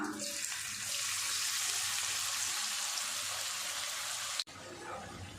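Slices of elephant foot yam fry in hot oil with a close, steady, bright sizzle that runs unbroken until a sudden click cuts it, after which it continues more faintly.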